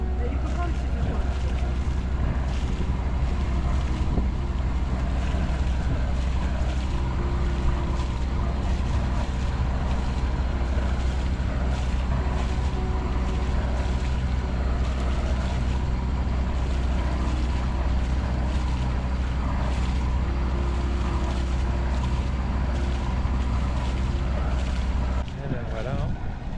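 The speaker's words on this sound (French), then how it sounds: "c'est Nadine qui monte la voile" Sailboat under way off the Antilles as the sail is hoisted, steady wind rushing over the microphone with water and hull wash, a continuous broad roar, faint voices now and then beneath it.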